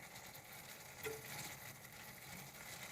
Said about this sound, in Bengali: একটু ভালো করে আমি নেড়ে ছেড়ে আবার এগুলো কষিয়ে দেব